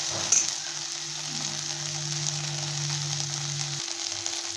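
Okra seasoned with turmeric and salt sizzles in a frying pan, a steady close hiss of frying with a soft stirring scrape near the start and a low hum running underneath, no voices.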